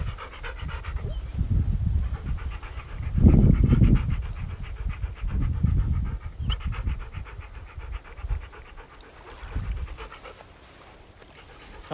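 A dog pants steadily and close by at an outdoor fishing spot beside water, rapid rhythmic breaths continuing throughout with some brief louder rustling.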